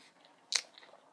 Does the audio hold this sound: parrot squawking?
no